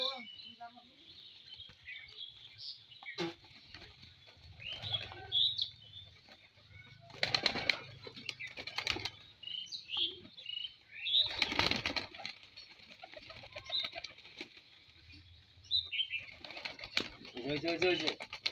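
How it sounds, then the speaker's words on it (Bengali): Pigeons feeding from a person's hand, with bursts of wing flapping and soft pecking, coos and chirps close by, while people talk quietly in between. "কবুতর তোমার হাতত ঠকে খাচ্ছে কিভাবে?"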